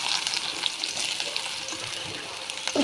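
Sliced onions go into hot oil for a shrimp curry, a loud, dense sizzle running steadily close by, with a brief clatter near the end.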